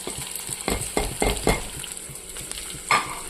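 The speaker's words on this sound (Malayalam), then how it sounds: "പൊടികളൊന്ന് മൂപ്പിച്ചെടുക്കാം" Spice powders frying with onions in a pan for a prawn and plantain theeyal curry: a close sizzle with several scraping stirs of a spoon across the pan, no talking.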